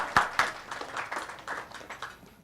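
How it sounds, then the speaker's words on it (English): An audience at a monthly technical meeting claps for a sponsor. The applause starts with a few sharp, close claps, then spreads into a moderate patter from the crowd and tapers off. "So could you please give the round of applause to our"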